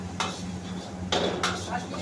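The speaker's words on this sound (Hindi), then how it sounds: "देखो फ्राइड राइस बना रहा है" Fried rice tossed in a restaurant pan gives soft sizzling under sharp scraping and metal clanks from stirring utensils, close and brief.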